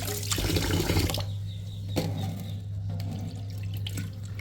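Water runs steadily from a tap into a pot of rice set to soak in a home kitchen, with a loud continuous splashing that eases slightly partway through and no talk.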